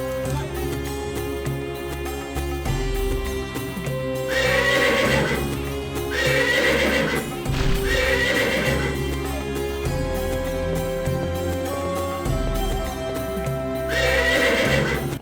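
A horse neighs and whinnies with clip-clopping hooves in a royal stable, the calls rising in several loud bursts over a continuous musical score.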